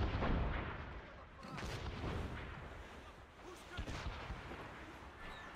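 Ship cannons fire in the Assassin's Creed Rogue video game, with heavy booming blasts at the start and rolling, rumbling reports that keep sounding through the rest of the clip.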